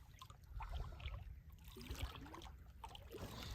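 A canoe paddled on calm water during catfish limb-line fishing, with faint, quiet trickles and drips from the paddle over a low background rumble.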